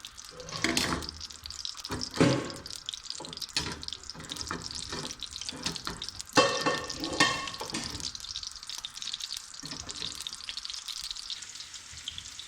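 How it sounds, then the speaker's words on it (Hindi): Onions frying in hot mustard oil in a karahi, a soft, continuous sizzle broken by sharper crackling bursts and occasional louder spatters, heard alone and close. "अब इसमें हम प्याज डालते हैं। तेल हमारा गर्म हो चुका है।"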